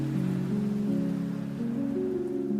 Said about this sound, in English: carry the sound of raindrops tapping gently on the rooftop